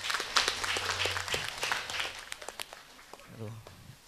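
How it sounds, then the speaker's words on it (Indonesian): Audience applause at an end-of-year thanksgiving celebration of an Islamic boarding school in Pamekasan, a dense burst of clapping that fades after about a second as a speaker's voice takes over. "tepuk tangan dulu untuk Nanda Riris."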